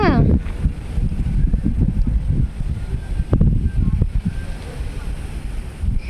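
Steady wind buffets the microphone with a low, rumbling roar throughout, and a voice is heard briefly near the start.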